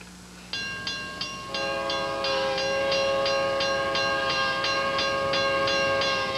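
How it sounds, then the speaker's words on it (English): A passing train sounds an unusual horn at a crossing: several short blasts in quick succession, then a long sustained, loud multi-tone blare over rail rumble. "Now the train's going, making this different kind of horn, which I've never heard."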